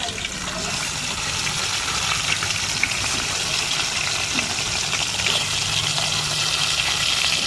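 Fish fry in hot mustard oil, a steady close sizzle and crackle that stays continuous and fairly loud, with faint pops scattered through it.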